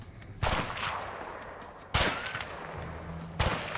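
Three sharp gunshots ring out at a sniper in the video game A Way Out, evenly spaced about a second and a half apart, each loud crack trailing into a long echoing decay over background noise.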